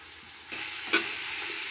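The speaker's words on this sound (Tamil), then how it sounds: "இந்த ஆனியனை நல்லா கோல்டன் ப்ரௌன் வர வரைக்கும் நல்லா வதக்கிக்கோங்க" Chopped onion, green chilli and whole spices fry in hot oil for chicken 65 biryani, giving a steady, close sizzle that thickens midway, with one brief scrape of a spoon against the pan.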